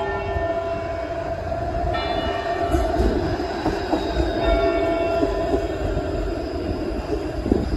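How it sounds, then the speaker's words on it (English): A streetcar passes along a city street near an old city hall clock tower, a continuous rumbling rail roll with faint metallic squeals and clacks, moderately close and steady throughout. "Oh, there's a streetcar."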